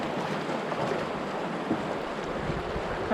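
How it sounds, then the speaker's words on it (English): Steady broadband wash of moving water and wind around someone wading through a shallow river on a wilderness canoe trip, continuous and close with no clear individual splashes. "I think I'll wade the rest."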